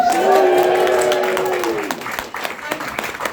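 A crowd at an evening event cheers and applauds, a loud whoop sliding downward over dense clapping that thins and fades after a couple of seconds.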